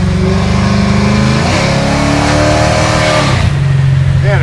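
A 650 hp procharged Chevy Chevelle SS restomod engine is loud and close, its steady drone rising into a rev on a downshift and then settling into a deeper hum.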